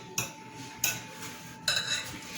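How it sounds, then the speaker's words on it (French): A utensil knocks against a bowl as chocolate donut batter is mixed, giving three distinct close clinks spaced out between soft scraping; no voices. "Je vais bien mélanger."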